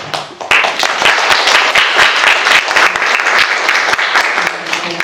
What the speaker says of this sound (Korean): 또 응원의 의미로 큰 박수 부탁드리겠습니다